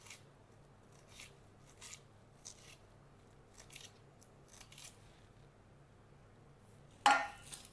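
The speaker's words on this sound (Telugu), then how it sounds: "పాలకూర అయితే కట్ చేసేసా." A knife cuts through fresh spinach (palak) leaves in a kitchen with soft, scattered crisp snips over quiet background hum, ending in one louder close chop.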